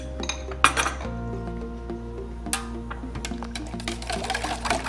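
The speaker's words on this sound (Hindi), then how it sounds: "अब इन चीज़ों को मैं मिक्स करूंगी।" A spoon clinks and scrapes against a metal bowl while raw cumin, chilli and turmeric are mixed together, several sharp close taps and rattles over a steady low hum, no talk.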